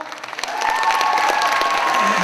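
A concert audience breaks into applause, starting light and swelling into steady, dense clapping from a hall full of people, with a few voices faintly mixed in.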